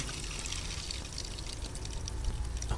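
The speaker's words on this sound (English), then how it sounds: "Okay, so we can hear the water passing already." Water runs through the tubing of a home watering system just after the tap is opened, a faint, steady hiss and gurgle with light trickling flickers throughout.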